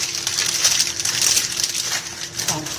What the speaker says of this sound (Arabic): نجيب المكرونه الاسباجيتي نقطعها نصين كده ونحطها بالشكل ده.